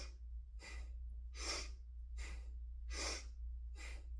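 Slow, even breaths drawn in and let out through the nose during a calm exercise routine, about five soft airy swells over four seconds, close and alone over a low steady hum.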